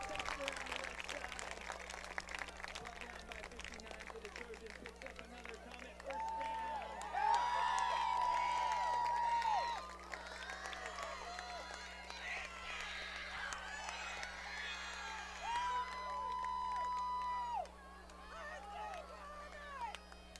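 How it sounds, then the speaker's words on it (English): A small home crowd at a high school football game cheers and stirs faintly in the distance, a diffuse murmur rising and falling beneath steady play-by-play commentary and a constant electrical hum. "this home crowd is getting excited"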